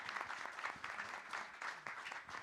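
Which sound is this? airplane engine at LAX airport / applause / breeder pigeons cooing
applause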